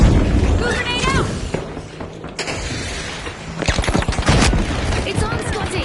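A grenade explosion and bursts of gunfire in the shooter game The Finals, loud and dense, with rapid shots clustering near the end and commentators talking over the fight.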